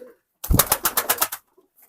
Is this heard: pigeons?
yes